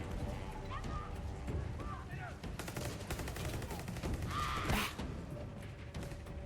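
Sniper and automatic gunfire crack repeatedly in the video game Far Cry 6, sharp reports scattered among game music and ambience, with a player talking over the action.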